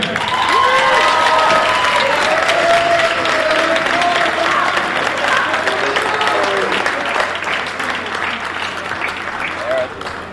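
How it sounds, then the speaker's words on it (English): Crowd at a prep boys basketball championship between Doane Academy and Morristown-Beard applauds and cheers the champions, a loud, dense, sustained wash of clapping with whistles and shouts that runs throughout, tapering slightly toward the end, with voices mixed in. "Round of applause for Morristown-Beard."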